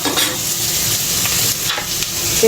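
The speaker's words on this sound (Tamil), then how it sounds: "வெங்காயம் வந்து நல்லா வதங்கினா டேஸ்ட் வந்து நல்லாயிருக்கும் நல்லா வதங்குறதுக்கு கொஞ்சம் உப்பு ஆட் பண்ணிக்கலாம்" Onions sautéing with salt in a pan for mutton curry produce a loud, continuous sizzle with scraping stirs and light crackles, close by and with no voices.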